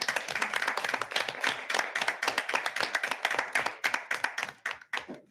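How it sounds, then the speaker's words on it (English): A small audience at a board meeting gives a round of applause, a few dozen sharp, fairly sparse claps that continue for several seconds before thinning out and stopping. "I want to give you a round of applause."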